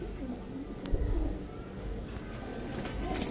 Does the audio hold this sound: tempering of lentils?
no